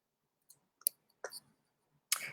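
A handful of faint, crisp mouse clicks in Service Autopilot scheduling software, single taps spaced irregularly over a quiet background.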